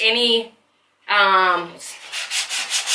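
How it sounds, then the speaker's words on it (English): A piece of 220-grit sandpaper rubbed over wood, a soft rhythmic scratching of short strokes near the end, following brief voice-like sounds at the start. "I have a piece of 220 sandpaper that I'm just going to use to rub and sand away"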